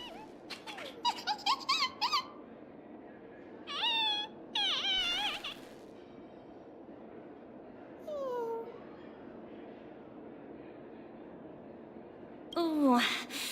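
Numby, a small cat creature in the Honkai Star Rail video game, gives several short squeaky meows in separate bursts against a quiet background.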